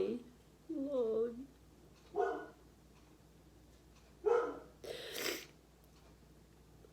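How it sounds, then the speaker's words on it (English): A pet dog gives a few drawn-out whimpering cries with wavering pitch. Short gaps separate them, and a faint steady hum runs underneath. "You're probably going to hear my dog start doing this cry that I tell you that he does all day long."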